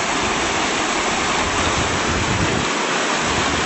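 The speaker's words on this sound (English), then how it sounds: "See, the creek is running in 2 streams here," A creek running split into two streams sends out a steady, broadband rush of flowing water, continuous and fairly loud throughout with no voices.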